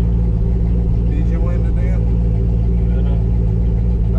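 Old truck engine rumbling steadily at idle, a loud low drone filling the whole stretch while people talk over it.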